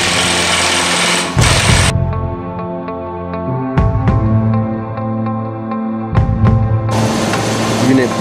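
A 2003 Mercedes-Benz W211 E500 with a 5.0L M113 V8 cranks on the starter during a compression test, giving a steady, rhythmic whirring chug that pauses and resumes several times.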